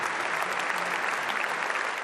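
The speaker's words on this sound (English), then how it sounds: "Applause rings out" Sustained applause from a crowd honors firefighters at the reopening of Notre-Dame Cathedral in Paris, a dense, even wash of clapping that stays steady throughout.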